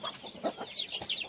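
Chickens kept inside a forest hut cluck in short, quick bursts, close by and fairly soft, with no talking.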